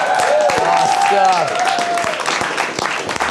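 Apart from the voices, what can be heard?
live studio audience clapping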